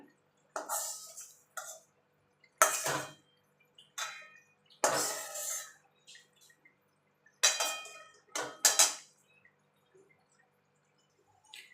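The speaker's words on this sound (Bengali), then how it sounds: "আমি এটা শিল নড়ায় বাটবো" Intermittent rough scraping and grinding bursts of stone on stone as fried drumstick flowers are ground on a grinding slab, close and separated by short pauses, with no talking.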